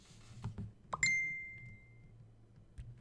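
A phone chat notification rings out as a single clear, bright ding with a lingering tone, heard during an online tabletop role-playing session over a faint background with soft clicks.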